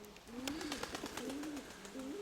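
Pigeons cooing in a low repeated warbling rhythm, several soft coos close by over a hissing outdoor background with occasional faint chirps.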